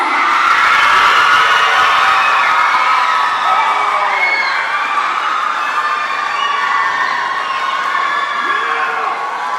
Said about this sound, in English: Please give a big round of applause for Lei Guohong.